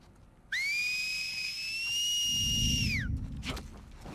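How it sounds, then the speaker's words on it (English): An enemy whistles in The Last of Us Part 2, one long clear sustained whistle that dips slightly then stops abruptly, followed by a low rumble and brief noises. "Shut up with your whistle."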